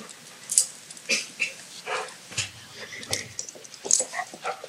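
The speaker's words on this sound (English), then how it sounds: "Sorry if he barks." A school drug-detection dog at a board of education meeting, giving a few short yelps and whimpers at scattered moments in a quiet indoor room.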